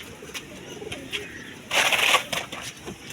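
Pigeons coming in to feed flutter and shuffle nearby, with a burst of wing flapping in the middle over a soft background hum.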